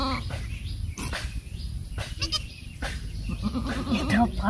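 A young goat kid gives a thin, wavering bleat near the end, close by, while people talk nearby through most of the stretch.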